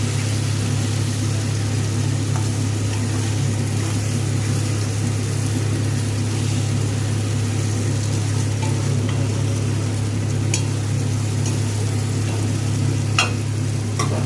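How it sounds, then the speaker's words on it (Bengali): Katla fish sizzles and fries steadily in oil with coconut spice paste, a constant close crackle with an occasional stir or clink and no talking. "মাছ দিয়ে ভালো করে মশলার সাথে কষিয়ে নেব।"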